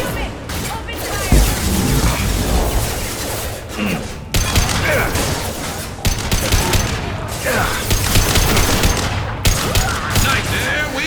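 Rapid gunfire from a Mass Effect 2 Legendary Edition firefight crackles in dense, overlapping bursts, with booms and thuds mixed in, loud and sustained throughout with brief gaps between volleys.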